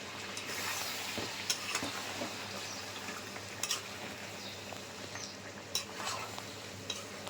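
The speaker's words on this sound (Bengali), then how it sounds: "একটু আরেক কষাবো মশলাটাকে ভালোভাবে" Spice masala with Kashmiri chilli powder, turmeric and tomato being sautéed for a mutton curry, a soft steady sizzle with light scraping and clinks of utensils in the pan, no voices.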